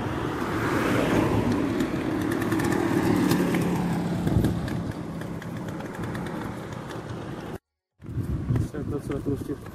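Street traffic on a Singapore road between Jurong Point and Jalan Bahar, Jurong West Avenue, with cars and motorcycles passing near a mosque, a steady loud engine rumble that swells and fades, then a brief drop and renewed vehicle noise.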